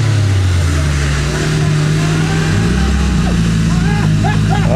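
A car engine revving on a muddy off-road route, a loud, steady droning hum that rises in pitch partway through, with rough ambient noise throughout.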